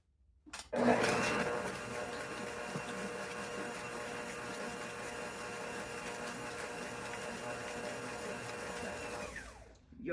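Electric mixer creaming butter with white and brown sugar for monster cookie dough, a steady continuous whir running close and loud for about nine seconds before cutting off.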